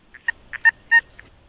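Several short electronic beeps from a metal detector in an irregular pattern, some brief chirps and a couple of longer tones, clear and close with a quiet outdoor background.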